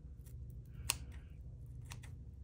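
Scissors snip loose fabric rags off the end of a fan belt on a 1927 Ford TT truck, a single sharp close cut standing out over a steady low hum, with faint softer snips around it.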